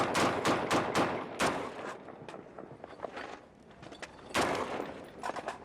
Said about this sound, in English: That's return fire coming back at